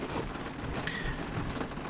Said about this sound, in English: I'm actually kind of glad that it's raining right now.